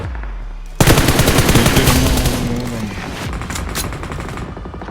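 Sustained machine gun fire in the PUBG Mobile battle game, a loud rapid rattling burst that starts abruptly and continues steadily before trailing off slightly, with no speech over it.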